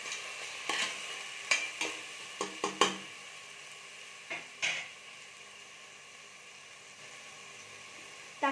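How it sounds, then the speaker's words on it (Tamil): Onions sauté in a pan for egg biryani, with a soft background sizzle and a scattered run of sharp spoon clinks and scrapes against the pan, near and without speech. "பார்த்தீங்கன்னா வெங்காயம் ஓரளவுக்கு நல்லா வதங்கி வந்துருச்சு."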